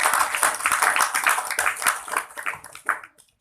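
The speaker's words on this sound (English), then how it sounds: "let's give him a round of applause" Audience applause at a 7-Eleven Philippines press conference, honoring the late founder Vincent Paterno: a burst of close, crisp clapping that gradually breaks into scattered claps and stops near the end.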